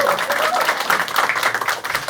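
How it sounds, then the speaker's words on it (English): A small group claps and cheers during a writers' panel discussion, a dense patter of hand claps lasting a couple of seconds, fairly close, with voices mixed in. "Please give a round of applause for her dialogues."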